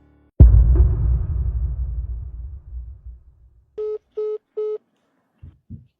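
A loud thud and fading rumble, then three short telephone keypad tones in quick succession, followed by two faint clicks.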